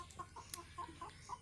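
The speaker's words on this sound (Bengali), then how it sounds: "এখানে প্রায় 18টি মুরগি আছে।" Home-raised domestic hens, about eighteen of them, cluck in short repeated bursts close by, with one brief sharper call standing out near the middle.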